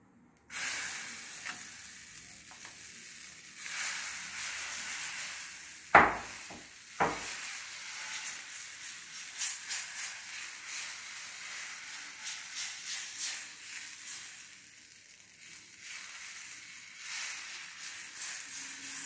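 Lauki (bottle gourd) chilla fries on a pan over low heat, giving a steady soft sizzle throughout, with a couple of brief louder scrapes or clatters near the middle and no talking.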